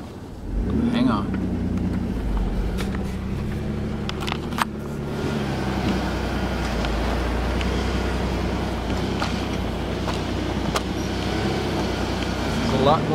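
A Ford Ranger pickup truck drives along a packed snow road, its engine and tyre rumble a steady, continuous low drone from inside the cab, with a few faint clicks and knocks over the top.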